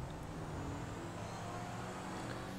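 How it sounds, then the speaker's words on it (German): A car engine in the video game GTA V drones steadily at low volume, a constant rumble with road noise and no voices. "dann in dem Auto beschleunigen. Das ist so geil. Die Engine hört sich so geil an in dem Auto."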